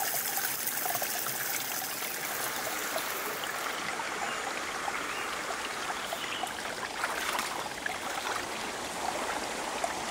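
Cold stream water in Gerês, along the Portuguese Way of the Camino de Santiago, flows in a steady, close rushing babble with no breaks and no voices.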